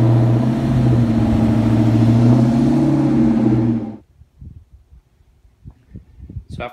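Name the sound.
Ford SVT Cobra car engine pulling into garage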